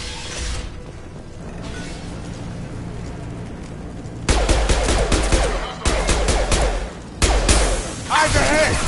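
Gunfire from Blue Suns mercenaries and Vorcha in the Mass Effect 2 video game, with loud bursts of shots and mechanical clatter that cut in abruptly over a quieter stretch of ambience.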